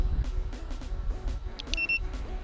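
A V-Fly device on an Eachine TYRO129 7-inch GPS racing drone gives a short pair of high electronic beeps on activation outdoors, over a steady low rumble of wind.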